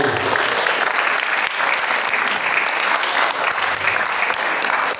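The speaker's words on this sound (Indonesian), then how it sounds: "tepuk tangan buat Ustadz Suwarna" A lively audience at an Islamic boarding school in Indonesia breaks into loud, sustained clapping, dense and close, with individual sharp claps standing out from the steady mass of hands.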